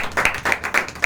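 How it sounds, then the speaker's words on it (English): Four quick rhythmic bursts of hand clapping from an audience at a club executive committee installation ceremony, fairly close and loud with no talk over it. "Can we give a round of applause to them,"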